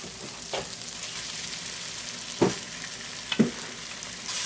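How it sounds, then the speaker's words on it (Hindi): Quiet, steady sizzling of chicken mince frying in a pan with ginger, garlic and onion, with a few sharper clinks and scrapes of stirring. "अच्छी तरह से इसको फ्राई करेंगे अदरक लहसुन और प्याज के साथ।"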